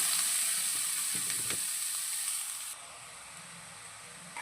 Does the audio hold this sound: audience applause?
no